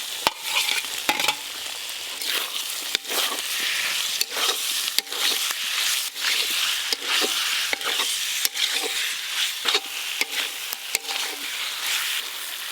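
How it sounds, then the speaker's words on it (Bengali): Potatoes fry in a spice paste for a rohu fish curry, giving a loud, steady sizzle broken by repeated scrapes and knocks of a spoon stirring the pan, with no one talking. "আলু দিয়ে মশলার সঙ্গে খুব ভালো করে কষানো হয়ে গেছে"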